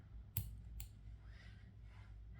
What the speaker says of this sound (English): Something like this, and then just cut the tail.